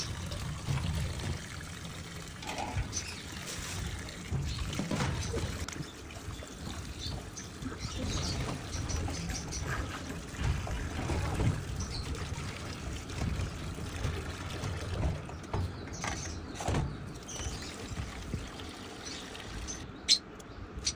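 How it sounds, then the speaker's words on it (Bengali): Tap water pours steadily over freshly cut fish as it is rinsed at home, a continuous close splashing and trickling with occasional brief drips and clatters throughout. "তো এরপর আমি কেটে ধুয়ে নিলাম।"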